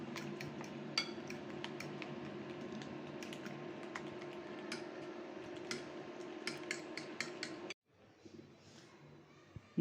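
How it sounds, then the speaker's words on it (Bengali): Fork beating eggs in a bowl for frying, a steady run of quick clinking taps with a low scraping undertone that stops abruptly near the end, leaving a quiet room. "এই কাঁটা চামচের সাহায্যে ভালোভাবে ফেটিয়ে দিব"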